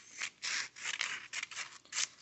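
Scissors slice through a paper sheet in a quick series of close, crisp crunching snips, about six short cuts with brief gaps between them.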